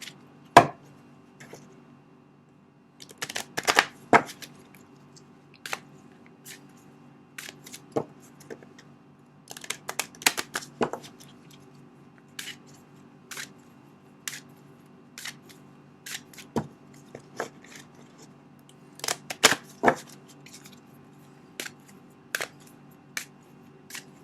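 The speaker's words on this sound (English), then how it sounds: "So now I'm pulling 3 advice cards for you guys." Tarot cards being shuffled and pulled for a reading, heard as scattered sharp snaps and taps spread irregularly across the stretch, some in quick clusters, in a quiet room with no talking.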